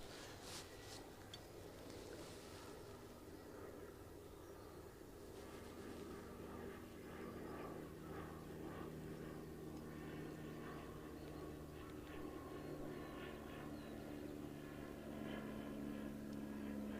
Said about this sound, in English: Got an overfly.